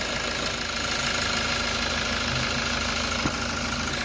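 A Toyota Innova engine idles with a steady, even mid-pitched rumble, close and continuous, with a slight knock in its rhythm and no talking over it.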